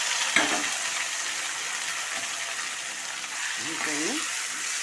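Lemons and garlic are fried and stirred for lemon pickle, with a steady sizzle and hiss filling the background and faint scraping mixed in. Voices can be heard talking over it.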